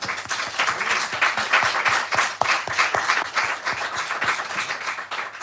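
An audience breaks into loud, sustained applause after a talk on Rojava and revolutionary commitment, a dense clatter of many hands clapping throughout.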